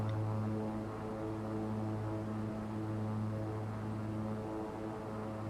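King Air 350 turboprop in a flight simulator game, a steady droning engine hum with strong constant tones, even and unbroken throughout with no voices.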